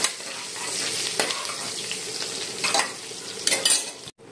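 Onion tempering for an egg curry crackles loudly in a pan, with scraping stirs and a clatter of utensils toward the end before it cuts off abruptly, close and free of talk.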